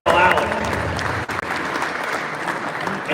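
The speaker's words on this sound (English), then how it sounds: "Your first fight on a big round of applause for James Shinari and Joel Allen" A crowd at a live professional boxing card applauds the fighters after the first bout, with sustained dense clapping and crowd noise that stay loud and close throughout.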